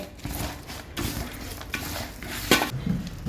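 Ginger, garlic and curry leaves sauté in a pan with a soft sizzle as a spoon stirs and scrapes in repeated strokes, the loudest scrape near the end; close and moderately loud with no talking.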